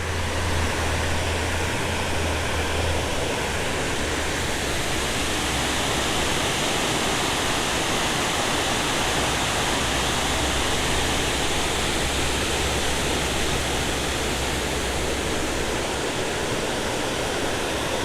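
Water rushes over an old mill dam in Prattville, Alabama as a loud, steady roar of broadband noise that stays constant throughout, with a low hum underneath and no voices.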